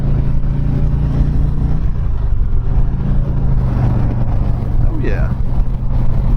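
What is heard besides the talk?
2019 Road King motorcycle riding on the highway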